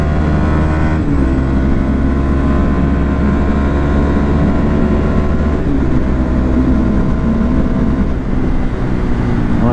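A Voge 300R motorcycle is ridden at speed, its engine giving a steady, loud, close droning hum with slight shifts in pitch, with no voices over it.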